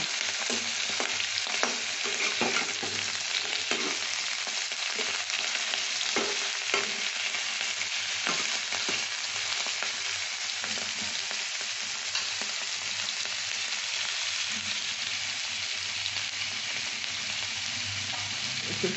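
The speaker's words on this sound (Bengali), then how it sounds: "ভাজা হোক তারপরে তুলে দেবো" Egg and cauliflower pieces fry steadily in hot oil in a pan, a continuous close sizzle with scattered crackles and stirring scrapes that runs unbroken throughout, with no talking.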